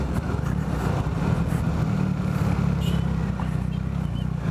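Triumph Rocket 3 motorcycle with its 2300 cc three-cylinder engine, a steady deep throbbing engine note running continuously at close range with no talk over it.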